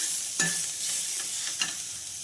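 Tomato masala sautéing in a pan gives a close, steady sizzle broken by a couple of brief spoon scrapes and stirs, with no one speaking.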